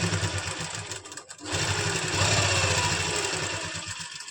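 A sewing machine stitches palazzo pants with a front belt and elastic back, running in a steady, loud mechanical whir that dips briefly near the start and then hums on continuously.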